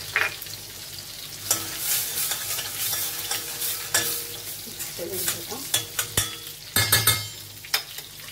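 Salmon fries in a pan with a little garlic added, a constant sizzle broken by repeated clicks and scrapes of a utensil stirring and knocking against the pan.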